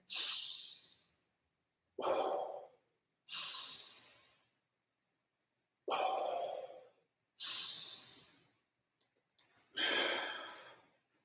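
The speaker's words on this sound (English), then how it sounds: "Now, slow your breathing with me again." Slow, deep breaths during a beginner martial arts exercise at home, six long airy exhales in a steady rhythm with pauses between, close and clear with no talking.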